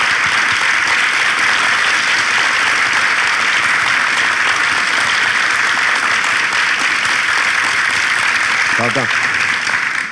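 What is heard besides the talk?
studio audience applause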